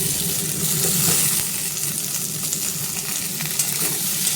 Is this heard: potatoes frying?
yes